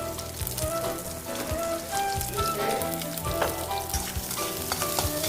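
Capsicum, chopped green chilies and grated ginger frying in a pan, a steady dense crackle and sizzle with soft scraping and stirring knocks throughout, close and moderately loud, no voices.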